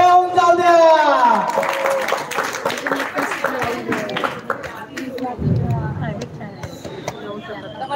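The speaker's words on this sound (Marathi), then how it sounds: "जोरदार टाळ्या होऊन जाऊ द्या।" Audience clapping at a stage performance program, with a burst of claps that keeps going under a speaking voice.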